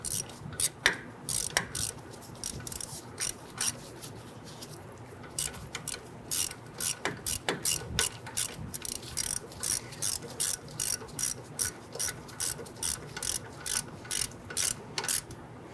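A ratchet wrench tightening a bolt on the front lower control arm of a 1994–2004 Ford Mustang, with rapid rhythmic clicking bursts repeated steadily at close range, no talking.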